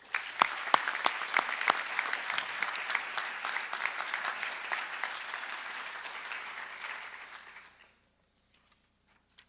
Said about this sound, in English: a round of applause and a thank you to our seniors